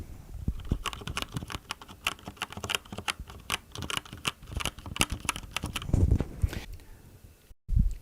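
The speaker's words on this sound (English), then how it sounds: "I just want to give you an idea of the key sound difference on the Keychron to the BlackWidow" Keystrokes rattle on a Razer BlackWidow V3 Mini Hyperspeed keyboard with yellow switches, a rapid, uneven run of close, crisp clicks and clacks that ends with a short pause and a final few presses.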